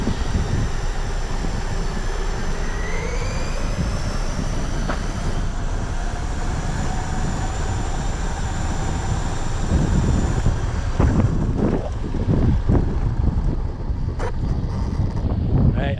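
Steady outdoor wind buffets the microphone as a continuous broadband rush, with a few louder gusts and rumbles toward the end.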